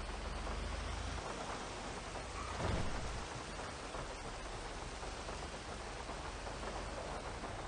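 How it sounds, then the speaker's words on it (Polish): Steady rain in a Grand Theft Auto roleplay game, a dense, constant hiss with a soft low rumble of thunder swelling briefly partway through, no voices. "Pada deszcz."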